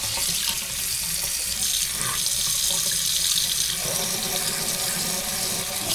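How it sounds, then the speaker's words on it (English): Water runs from a faucet after being turned on at a sink in an abandoned three-family house under repair, a steady close hiss with sputtering as air clears from the line, without talk. "Then we're gonna go ahead and turn on the water."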